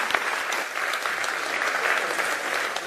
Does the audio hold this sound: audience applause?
yes